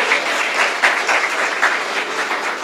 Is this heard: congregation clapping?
yes